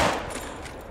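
A single .45-70 rifle shot fired at a buffalo, a loud, close blast that decays over under a second.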